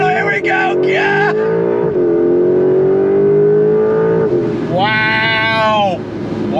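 A 2025 Porsche 911 Carrera 4 GTS T-Hybrid in manual shift mode accelerates hard and loud. Its engine note climbs steadily, with quick gear changes between the rising pulls.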